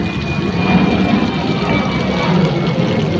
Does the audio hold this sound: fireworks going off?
no